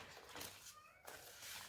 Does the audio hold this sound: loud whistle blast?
no